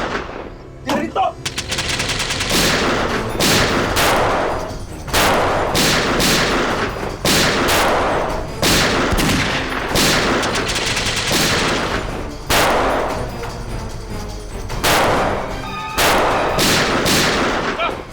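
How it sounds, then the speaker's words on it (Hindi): Dense bursts of rapid automatic gunfire, loud and close, with repeated sustained volleys and a few short pauses throughout. "गोली चला।"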